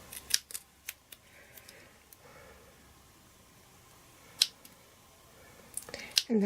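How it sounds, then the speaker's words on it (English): Scissors snipping a paper card strip for a layered diorama card, several crisp close cuts spread out with quiet pauses between them and a louder rustle at the end. "And then cut from the outer edges toward the centre."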